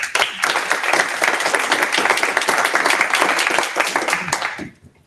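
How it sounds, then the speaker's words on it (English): An audience at a town hall meeting claps steadily for about five seconds, a dense, loud wash of applause that quickly fades out at the end. "So give yourselves a round of applause."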